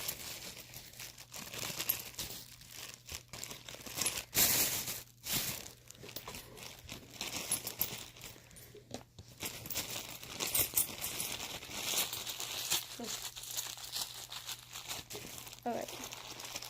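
A plastic bag crinkles and rustles at close range while someone opens small toy bags during slime making, with intermittent crackles over steady room noise and speech throughout.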